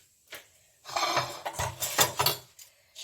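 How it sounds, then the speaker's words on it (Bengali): A metal lid lifted off a pan on low flame while a cheesy winter pitha cooks, giving a few clattering, scraping clinks of metal against metal in a quiet kitchen with no voices. "এখন আমি এই ঢাকনাটাকে তুলে দিচ্ছি"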